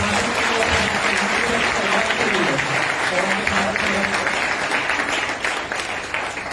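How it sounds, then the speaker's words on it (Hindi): Loud, sustained applause fills a church congregation, a dense wash of clapping holding steady for several seconds with faint voices mixed in before easing slightly toward the end. "जोरदार तालियां खुदा के"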